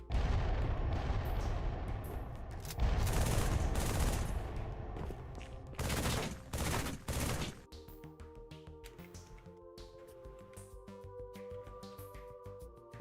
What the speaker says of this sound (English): The explosion, which admittedly is too small, happens, which is cool.